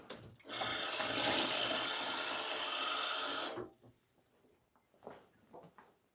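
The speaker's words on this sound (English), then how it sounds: "one more thing that I'm going to do is get my glass of water filled" A glass fills with water from a running tap, a steady bright gush for about three seconds that stops abruptly, followed by a few soft knocks and handling sounds.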